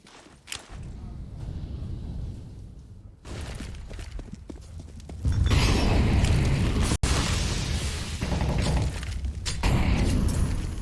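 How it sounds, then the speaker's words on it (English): Grenades exploding in Counter-Strike: Global Offensive on the Mirage map during a pro match, loud booming blasts with a dense rumbling wash of game noise that swells and stays heavy throughout. "Some nades being traded"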